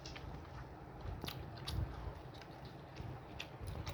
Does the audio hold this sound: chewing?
yes